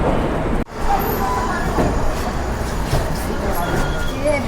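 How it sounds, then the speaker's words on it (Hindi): Pashchim Express passenger train pulling out of Chandigarh station, a steady broadband rumble of rolling coaches close by with faint wheel noise and a brief dropout near the start; a voice can be heard over it. "चंडीगढ़ से डिपार्ट होती है हमारी पश्चिम एक्सप्रेस।"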